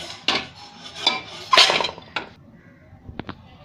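A metal cake tin set down on a plate inside a pressure cooker with a few clanks and scrapes, followed by a couple of light metallic clicks.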